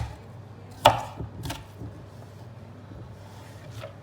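Onions are chopped with a knife on a board, a few separate sharp taps spaced apart against quiet kitchen background noise.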